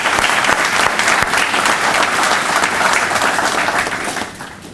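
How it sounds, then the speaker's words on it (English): Audience applauding the governor at a Manufacturing Day event in a facility, a loud sustained round of clapping from a crowd that gradually fades out near the end. "How about a round of applause for our governor?"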